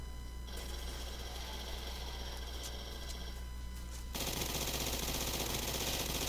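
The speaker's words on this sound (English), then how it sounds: "it fires so quick and reloads so quick that you hardly even notice that you don't have a whole lot of ammo" Rapid pistol fire in the Roblox game Zombie Uprising, a fast continuous stream of shots that blurs into a buzzing rattle, dense and steady throughout and getting louder partway through, with no talk.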